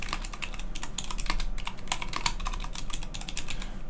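Rapid, steady keystrokes on a computer keyboard as a command is typed on an Ubuntu workstation, close and clear with no talking, continuing for about four seconds.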